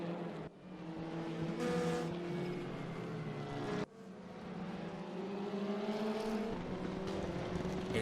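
A Volvo S60 TCR race car in a racing video game on the Mid-Ohio track, its engine droning and climbing through gears with two sharp cuts at shifts, steady and close throughout.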